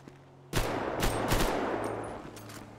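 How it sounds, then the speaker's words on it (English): Several loud gunshots from a video game gun ring out in quick succession, sharp cracks with a few pauses between bursts, over a steady low background hum. "I want to see what this gun sounds like."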